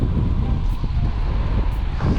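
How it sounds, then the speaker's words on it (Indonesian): Strong outdoor wind buffets the microphone, producing a constant loud low rumble that fills the whole stretch with no break. "sorry kalau misalkan ada suara gemuruh angin ya guys, karena sekarang anginnya lagi kenceng tuh"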